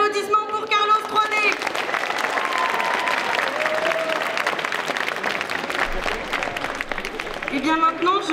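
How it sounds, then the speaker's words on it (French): Sustained audience applause fills a stage presentation of judges at a cosplay contest at the Troyes Japan Pop Show, steady dense clapping throughout with brief voices and a distant call at the start and end. "Et donc je veux un tonnerre d'applaudissements pour Carlos 3D."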